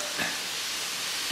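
A LOL Surprise Bubbly Surprise bath fizzy toy dissolves in water with a steady, soft fizzing hiss that continues faintly throughout.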